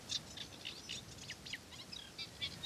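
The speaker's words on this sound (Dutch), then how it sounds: "Dit is de eerste kleine karakiet voor het seizoen." A Eurasian reed warbler sings from reeds in a wetland, giving a rapid, chattering run of high chirps and churrs that is faint but continuous over a low background hiss.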